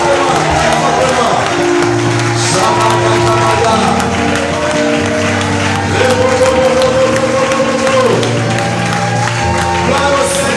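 A congregation cheers, shouts and whoops in acclamation during a Sunday church service, a loud sustained crowd roar with scattered clapping and overlapping voices throughout.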